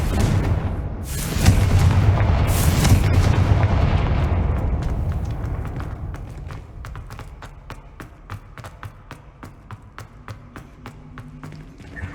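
A Confringo blasting spell explodes in the video game Hogwarts Legacy with a loud, sustained boom and rumbling debris. Sharp rhythmic taps and clicks trail off as the blast fades.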